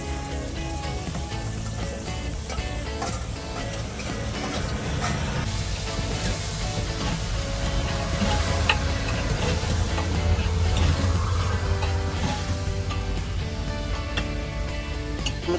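Tomatoes, onions and chillies fry in oil at a roadside highway meal, giving a steady, moderately loud sizzle with occasional stirring scrapes and no talking.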